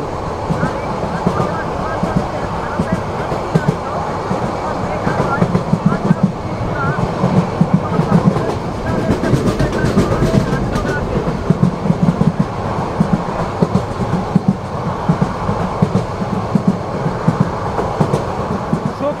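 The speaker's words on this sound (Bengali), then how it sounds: "আমাদের ট্রেন সুন্দর একটি কার্ভ নিচ্ছে" Sonar Bangla Express rolling along the tracks on a curve after leaving Akhaura Junction, a steady loud rumble with rhythmic clickety-clack heard from aboard the moving train, continuous throughout.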